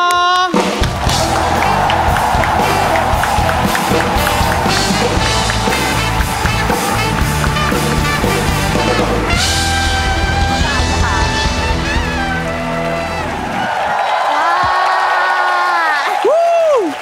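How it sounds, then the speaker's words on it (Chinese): A studio audience at a Taiwanese late-night talk show claps and cheers loudly for an arriving guest, with whoops over the dense applause, while music and voices play over it before the noise fades near the end. "各位观众，让我们掌声欢迎欢国昌"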